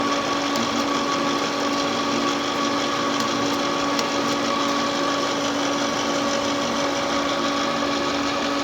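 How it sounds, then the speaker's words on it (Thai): An electric fan blows air into a chimneyless charcoal kiln, giving a steady, loud, droning motor hum with a constant whirring tone and no talking. "ทีนี้พัดลมเป่าแล้วมาสังเกต"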